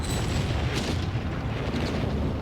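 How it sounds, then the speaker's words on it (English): Howitzer counter-artillery fire in the Company of Heroes 3 strategy game: a dense, loud wash of distant booming blasts and rumbling explosions layered over each other, with a sharper crack near the start. "I think at least 3 bishops just taken out by counter-artillery fire there from those howitzers"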